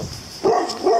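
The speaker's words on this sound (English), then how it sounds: "a doggy next door," A neighbouring dog next door barks twice in quick succession, fairly close and loud, heard from a backyard deck.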